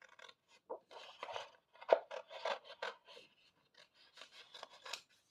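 Faint, intermittent snips and papery scraping of scissors cutting out a mushroom shape, short irregular bursts close by with quiet gaps.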